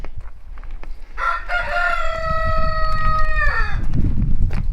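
A rooster crows once, a long, loud, clear call that rises and holds before falling off, heard close up over low background rumble.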